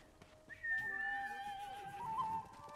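A horse in the video game Ghost of Tsushima gives a brief whinny-like tonal call, quiet and close, over soft game ambience.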